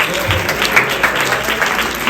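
Dense audience applause at a Janmashtami celebration in a temple, many hands clapping steadily and loudly throughout the short stretch, near and filling the room.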